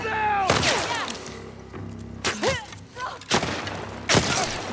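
Gunfire in The Last of Us Part 2 rings out as four or five loud, separate shots with echoing tails, mixed with shouting voices and other harsh in-game effects.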